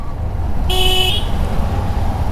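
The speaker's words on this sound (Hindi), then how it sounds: "बाहर तो शोर चलता है इस वक्त, तो वैसे बंदे हॉर्न बहुत ज़्यादा मारते रहते हैं।" A single short car horn toot sounds over a constant rumble of nearby night road traffic.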